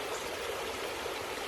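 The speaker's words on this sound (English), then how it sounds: "This is Travertine Creek" Travertine Creek in Oklahoma's first national park flows steadily nearby, a close, even babble of running water without pauses.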